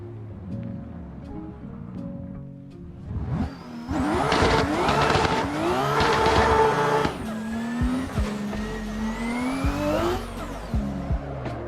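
Engine revving and tires squealing as a car drifts in a racing simulator game played on a MOZA R5 wheel, loud and continuous with sliding pitch sweeps and a surge of screeching in the middle.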